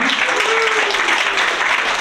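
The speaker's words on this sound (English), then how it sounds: "How about a round of applause for them?" An audience at a school board meeting applauds the state-winning team, a dense, steady patter of many hands, loud and close, with a voice briefly audible over it.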